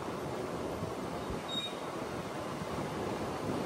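A MEMU passenger train running between Rajahmundry and Bhimavaram gives a steady, even rumble of wheels and carriage noise, with a brief thin squeal partway through and no voices.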